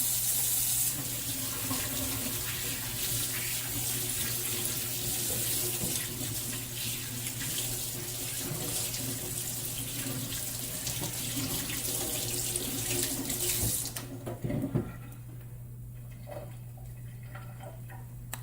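A kitchen tap runs steadily at close range, a broad continuous hiss of water filling a sink while cooking chicken with mustard, then cuts off near the end, leaving quieter room sound.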